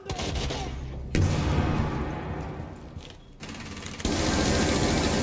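Automatic weapon fire in Rainbow Six Siege keeps up a dense, mechanical rattle, broken by brief gaps, with sharp, loud bursts at the start and again near the end.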